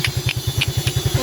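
A repaired motorcycle engine idles close by with a steady, even chugging pulse of about ten firings per second and a few faint higher clicks on top.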